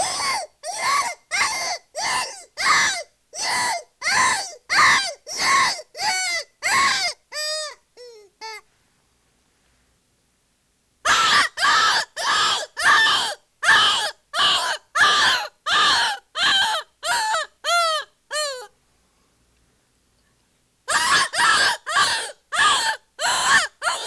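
A Knight and Hale jack rabbit predator call blown in short, sharp bursts, giving rapid rabbit-like distress squeals in three loud rhythmic series separated by pauses of silence.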